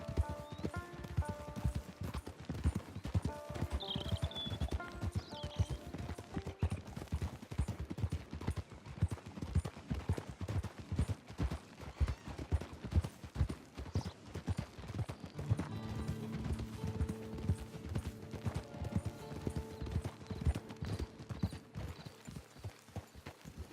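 Horse hooves clip-clop steadily in Red Dead Redemption 2, a brisk rhythmic gait under game music and ambience, with a brief whinny early on.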